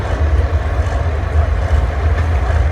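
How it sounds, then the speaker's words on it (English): A John Deere tractor pulling at a county fair tractor pull, its engine a loud, heavy, continuous low roar that swells and dips slightly in the open air. "I'm going to say this is a John Deere."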